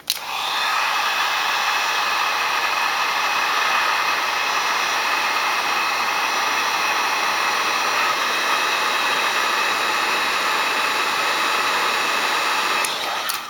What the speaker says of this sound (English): so you're going to hear a heat gun